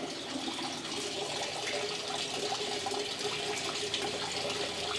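An Electrolux LTE12 washing machine draws water during its fill cycle: a continuous, even rush of flowing water, close and steady throughout with no pauses.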